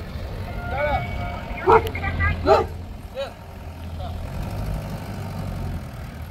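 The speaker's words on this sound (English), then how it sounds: "Dog's not happy about it." A dog gives a few short, high whimpering yelps and barks amid the noise of a truck engine idling outdoors, with people talking nearby during work on a Nissan S13.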